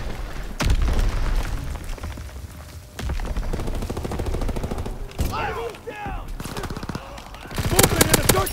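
Call of Duty WWII battlefield gunfire crackles in repeated automatic bursts and heavy booming shots, loud and close, with a sharp burst near the end and voices talking in between.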